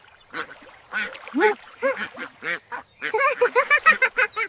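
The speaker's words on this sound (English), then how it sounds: "Look, Miss Grace, these are white ducks." White ducks quack repeatedly and loudly up close, a scattered run of calls followed by a faster, busier burst of overlapping quacks.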